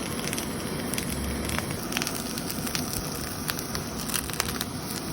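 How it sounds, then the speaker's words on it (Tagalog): A blowtorch flame sears goat meat, giving a steady roaring hiss with a faint crackle, continuous and fairly quiet, with no talk over it. "tinorch natin rito para medyo maglasang inihaw yung ating"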